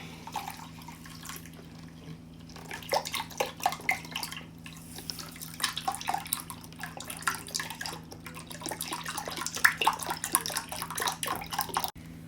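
Fresh milk poured into a bowl over powdered cassava cake mix and stirred in, giving a steady run of liquid splashing and wet sloshing that rises and falls for several seconds with no talking.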